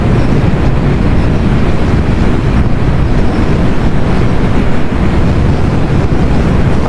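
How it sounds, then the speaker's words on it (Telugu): A Honda Activa 6G 125cc scooter at full throttle on the road, a loud, steady rush of engine drone and wind buffeting with no letup, close to the microphone. "నేనైతే ఫుల్ థ్రాటిల్ ఇచ్చాను, ఇంతకంటే బండి స్పీడ్ అయితే వెళ్ళడం లేదు"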